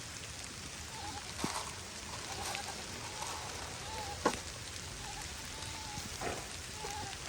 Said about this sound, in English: Hopefully it'll stop raining